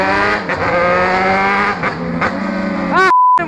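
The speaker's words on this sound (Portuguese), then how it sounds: "Só pra mostrar o barulho da moto." A motorcycle engine with a cold motor revs hard in a rising, whining rhythm, climbing in pitch through several bursts before a final high scream and a brief cutout.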